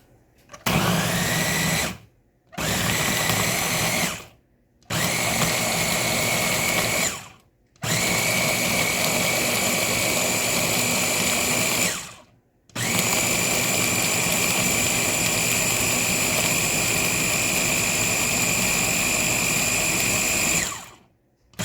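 A smoothie blender motor roars loudly in repeated bursts, several short runs broken by brief pauses and then one long continuous whir, close up and without speech.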